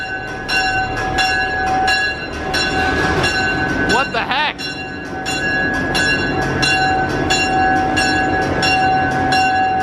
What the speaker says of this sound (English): There's a train coming right through here.